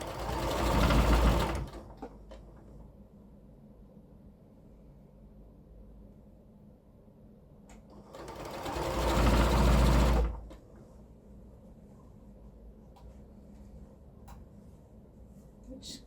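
A sewing machine stitches a checkered quilt border for a jelly roll quilt, running in two loud bursts of whirring separated by a long quiet pause.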